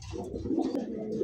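A pair of zira-necked pigeons coos in soft, repeated throaty rolls, close and steady, with no talk over them.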